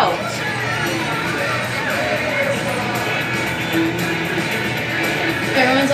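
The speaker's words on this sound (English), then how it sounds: "Everyone's all cheering." Crowd cheering at a Mario Superstar Baseball game, a steady, moderately loud roar of stadium voices throughout, with a person talking over it.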